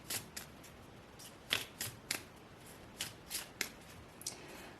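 Playing cards are shuffled for a card reading in a quiet room, a series of soft riffling bursts, about a dozen brief rustles spaced irregularly and close by.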